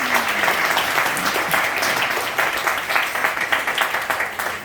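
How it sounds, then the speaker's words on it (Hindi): An indoor audience at a Tiens business speech event in Meerut claps loudly and continuously for several seconds, a dense steady applause with no talk over it. "जिनके लिए जोरदार ताली भी चाहूंगा"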